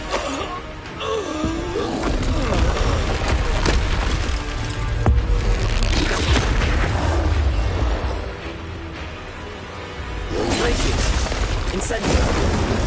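A video game 'Expulso' spell sets off explosions: continuous heavy booms and splintering crashes roll through most of the stretch, with a voice speaking over them.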